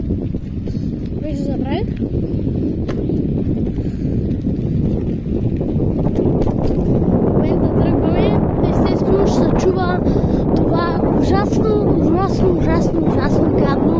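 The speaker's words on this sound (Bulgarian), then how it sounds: "този ужасен гаден вятър" Strong wind buffets the microphone outdoors on a walk between Brestovo and Kakrina. It makes a loud, constant rumbling roar for the whole stretch while a person keeps talking over it.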